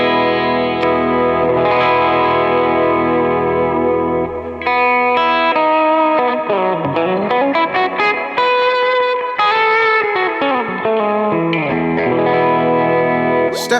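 Electric guitar through a Quad Cortex amp modeler with heavy effects, ringing chords and sliding notes washed in chorus, echo and mild distortion, loud and sustained with no talking.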